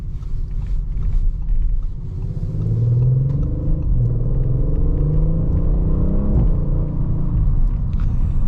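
A 2023 Audi RS 5 Sportback engine rumbles steadily while driving, with a deep low drone rising in pitch through gentle acceleration, close and fairly loud, with no talking.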